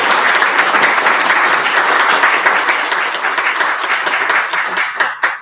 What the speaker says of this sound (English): Now we can give the big round of applause,